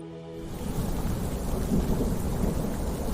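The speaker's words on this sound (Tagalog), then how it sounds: "Bumuhos na ang malakas na ulan at paunti-unti ay lumalakas lalo ang hangin." Thunderstorm with heavy rain pouring down and strong wind, a dense continuous rumble and hiss, with low thunder swelling in the middle and steady rainfall throughout.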